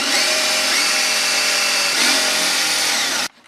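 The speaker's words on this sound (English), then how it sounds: "try to drill out the rivets" A power drill runs steadily at high speed, boring out rivets on a 2001 C5 Corvette, loud and close for about three seconds before cutting off abruptly.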